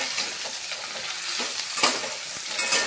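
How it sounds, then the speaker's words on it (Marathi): Eggplant pieces fry in hot oil in a pan, a loud close crackling sizzle with busy stirring and spatula scrapes running continuously. "आता आपण सर्व वांगी तेलात घालून घेतलेली आहे। आता हे आपण फ्राय करून घेऊ।"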